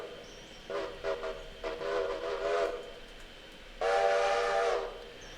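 Steam whistle of a locomotive in a railroad simulation game, sounded in two short blasts and then one longer, louder toot, clear and close with no talking.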